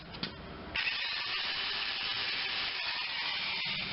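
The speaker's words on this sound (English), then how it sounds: "Just a disc on a drill." An abrasive disc spun by a drill, stripping paint and primer from a dented car body panel. A steady high whine starts abruptly and grinds on continuously at close range, with faint knocks and scrapes underneath.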